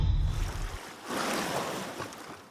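Water waves for a Blender water simulation effect, a continuous broadband wash of surf-like rushing that surges, dips briefly, then swells again, loud and steady with no voices.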